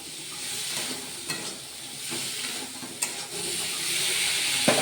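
Spices are stirred in a hot pan to cook off their raw smell, making a steady close sizzle broken by a few soft scraping clicks of a spoon. No one talks.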